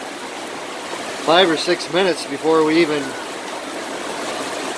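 Steady, dense hiss of heavy rain pouring down throughout, with a person speaking briefly over it in the middle.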